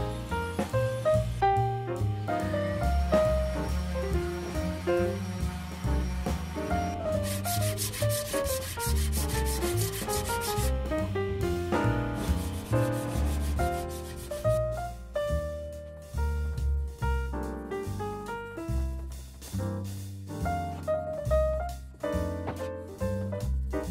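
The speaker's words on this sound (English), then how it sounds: "To protect it, I put a coat of Brie wax and buffed it out to a nice shine." Wax is buffed onto an oak tray base with a steady rubbing and sanding-like friction, continuous throughout and heard beneath prominent background music.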